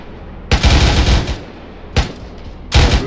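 Bursts of M240 machine gun fire in a military video game, three loud close strings of rapid shots separated by short pauses.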